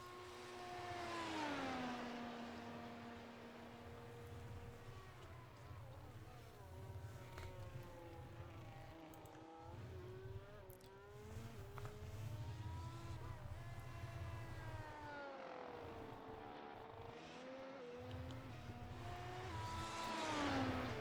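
High-revving race cars from a hyper formula racing game at the Australian Grand Prix practice session, with engine notes swooping up and down in pitch as several cars pass and accelerate, fairly faint and continuous with brief gaps.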